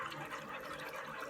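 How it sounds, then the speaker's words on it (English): Half a cup of water is poured steadily into Jamaican barbecue sauce for wings, giving a close, continuous splashing fill with no talk. "We're going to go straight in with our half cup of water."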